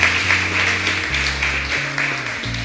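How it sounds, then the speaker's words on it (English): Applause and hand clapping from an audience at an awards ceremony, a steady wash of claps continuing over low musical tones throughout. "One more hand clap for"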